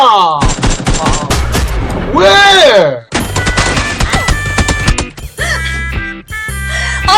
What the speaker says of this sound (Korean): 총소리 나서